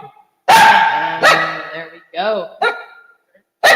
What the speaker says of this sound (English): I apologize, you guys, for the dog today.